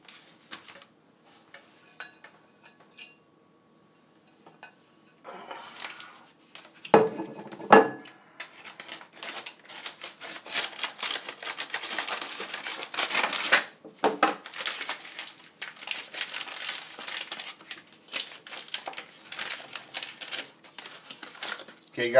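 A hard Columbus peppered salame wrapped in paper and then plastic is unwrapped up close, with crinkling and rustling bursts that grow busier after a quiet start, as a person talks intermittently.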